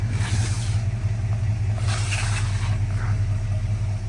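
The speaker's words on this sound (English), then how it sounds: "Let it idle low for a minute." A rough-running car engine idles low and steady, a dirty-on-startup condition noted, its constant low rumble close by and alone for the full stretch.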